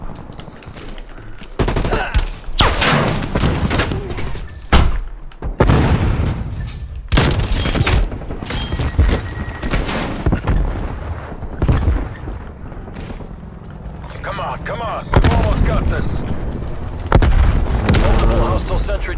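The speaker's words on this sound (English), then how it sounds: "Multiple enemy sentry turrets active. A sentry gun killed me." Enemy sentry turrets in Call of Duty Black Ops Cold War multiplayer fire dense, rapid bursts of automatic gunfire with booming hits, loud and continuous, while voices talk over the shooting.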